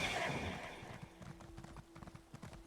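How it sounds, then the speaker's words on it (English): In the video game Elder Scrolls Online, a soul-shriven horse plods along with soft, quick hoof clip-clops and a faint whinny near the start, quiet and close. "I'm riding on a soul-shriven horse"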